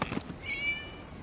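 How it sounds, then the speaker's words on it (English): A cat in the video game Genshin Impact gives a single thin, rising meow, brief and fairly faint, after a soft rustle. "It was just a cat."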